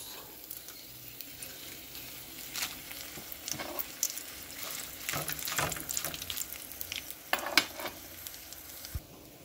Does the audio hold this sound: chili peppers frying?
yes